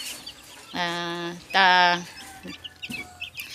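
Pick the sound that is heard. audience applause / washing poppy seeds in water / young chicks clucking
young chicks clucking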